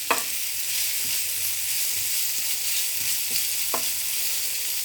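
Chicken pieces fry in a pan and get stirred to brown, a loud continuous sizzle close by with a few scraping stir strokes, no speech.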